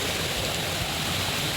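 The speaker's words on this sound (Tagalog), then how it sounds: "Ang lakas ng tubig guys, naririnig nyo, no?" Water from a burst pipe rushes out hard in a steady, dense roar, loud and close, with no talking over it.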